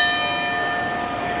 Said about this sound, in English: ringing the bell for us to start this main event, this championship match